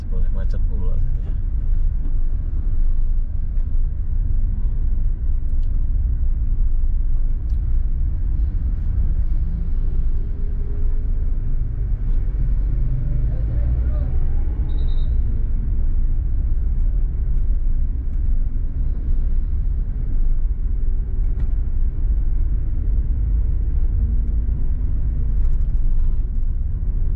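Steady, close engine rumble and road noise from a car moving through busy, congested traffic in Batam city, from Batam Center toward Pinwin, continuous across the whole stretch with no talk.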